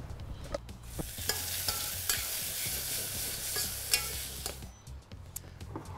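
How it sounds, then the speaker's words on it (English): Arugula, chorizo and olives sizzle while being seared in an oiled pot, with steady frying crackle and occasional sharp clinks and scrapes of stirring close by. "Just arugula, chorizo, and olives, and then keep searing it."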